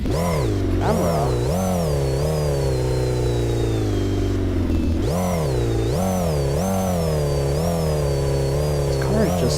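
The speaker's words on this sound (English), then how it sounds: "This car is just so loud." A loud car engine revs repeatedly, pitch rising and falling in surges, close and dominant with a continuous droning roar between pulls.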